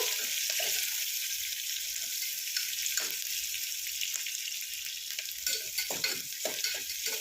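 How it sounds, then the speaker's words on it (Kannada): Green chillies and onion sizzle steadily in oil in a pan while cooking vangibath, a broad continuous hiss with occasional stirring scrapes and small pops, close and moderately loud with no talking. "ಸ್ವಲ್ಪ ಚೆನ್ನಾಗಿ ಫ್ರೈ ಮಾಡ್ಕೋಬೇಕಾಗತ್ತೆ ಸ್ವಲ್ಪ ಹೊತ್ತು"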